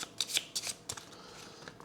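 Cards being shuffled for the board game Dungeon Alliance, a few quick papery riffles and bursts spread over a short moment at a quiet level, close by, with no talk over them.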